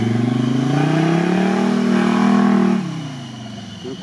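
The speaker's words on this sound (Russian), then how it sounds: "мерседесовский 605 мотор." A Mercedes 605 engine fitted in a GAZ-69 off-roader revs up close, its tone climbing and holding loud before dropping back to a rough idle, with a brief rise again at the end.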